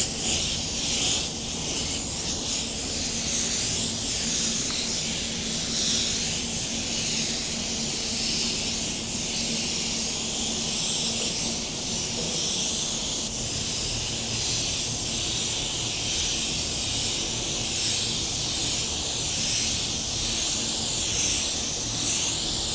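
Spray gun laying a wet base coat of paint at about 40 PSI, a steady close hiss of atomised spray running continuously without pause.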